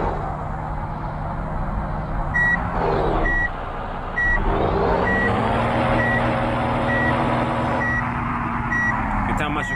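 Reversing beeps from a dump truck backing up in the game Bus Simulator Indonesia, a steady series of evenly spaced high beeps over a low engine drone, with someone talking throughout.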